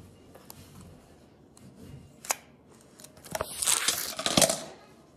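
Scissors being handled and snipped by someone wearing gloves, a few sharp close cuts and rubbing sounds building to a louder flurry of cutting at the end, with no talking.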